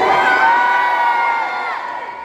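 A festival crowd shouts and cheers loudly and continuously, with shrill high voices and whoops. It fades slightly toward the end.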